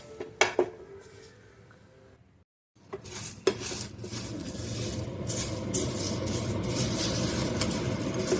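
Nigella, fenugreek, mustard and fennel seeds dry-roast in a pan, with a few sharp metallic clinks, a brief silent gap, then a steady rustling scrape and clatter as they are stirred.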